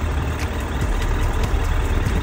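A Suzuki GSF1200S motorcycle with a carburetted engine ticks over at idle, a steady close low rumble that holds a constant level with no voice over it.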